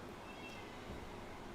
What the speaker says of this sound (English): But I hear Reno meowing.